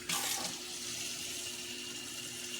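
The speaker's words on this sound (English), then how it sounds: "Then we're going to put a little water in your corn." Water from a tap pours steadily into a cooking pot of corn, a close, continuous splashing rush with a brief louder burst at the start and no voices.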